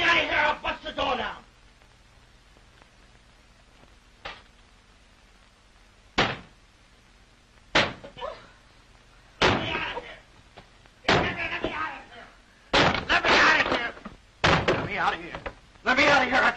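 A man locked in a room pounds and bangs on the door in a 1933 film, with heavy irregular thuds and slams arriving in bursts over about sixteen seconds, loud and close, separated by quiet gaps.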